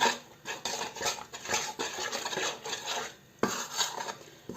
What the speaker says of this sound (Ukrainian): І ложкою просто розмішуємо тако.